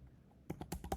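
Quiet, close computer keyboard typing, a rapid run of about six crisp keystrokes after a short silent pause.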